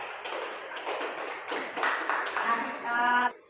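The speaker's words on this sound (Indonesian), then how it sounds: "Mari kita berikan aplaus untuk Adik Elda." A small group of schoolchildren clap for a classmate in a classroom, a steady patter of many hands at moderate volume lasting a few seconds before stopping abruptly, with faint voices mixed in.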